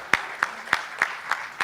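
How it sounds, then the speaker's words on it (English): Awards ceremony audience applauding in a run of sharp, evenly spaced claps about three per second, fairly close and clear with no talk over them. "Please give her a big round of applause, everybody."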